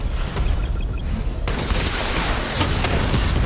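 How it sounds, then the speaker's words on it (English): Missile barrage firing in Batman: Arkham Knight, heard as a dense, continuous roar of rumbling blasts and explosions that jumps to a brighter, harsher wash partway through and stays loud throughout. "Missile barrage level 2 ready."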